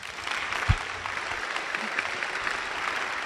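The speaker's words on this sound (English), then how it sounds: "Please give a warm round of applause for Congressman Michael Thompson." Audience applause at a congressional town hall meeting at NAHS welcoming Congressman Michael Thompson, a steady broadband wash of many hands clapping throughout, with one brief low thump early on.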